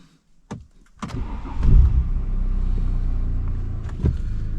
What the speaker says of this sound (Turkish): gelin birlikte marşa basalım